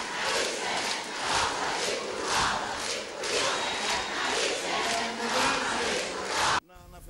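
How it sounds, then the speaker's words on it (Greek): Women of a political party give the Prime Minister a prolonged welcome, a loud sustained crowd roar of clapping and cheering that continues steadily before cutting off suddenly. "Με ένα παρατεταμένο χειροκρότημα υποδέχτηκαν τον Πρωθυπουργό οι γυναίκες της Νέας Δημοκρατίας."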